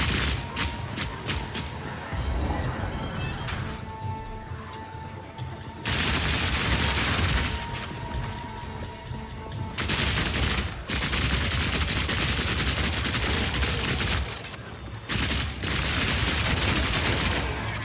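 Rapid bursts of crossbow fire in Path of Exile 2, punchy like a shotgun, come as loud, dense, sustained volleys with brief gaps between them and almost no talking.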